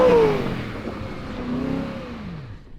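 A Tesla Model 3 drifting on a dirt rally track, its electric motor whining up in pitch then sliding down as the car swings through, close and fairly loud with no talk.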